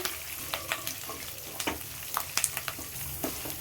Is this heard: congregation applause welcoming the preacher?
no